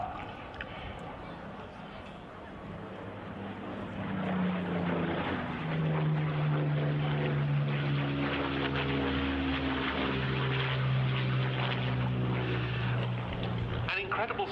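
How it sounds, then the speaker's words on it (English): A Spitfire from the Royal Netherlands Air Force historic flight, a World War II propeller fighter, drones overhead at an air show, its engine tone rising and sliding in pitch under steady commentary from a voice. "the Spitfire."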